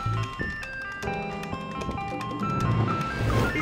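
An ice cream truck draws near playing its bright, tinkling jingle tune steadily, the melody growing slightly louder with rumbling traffic noise underneath.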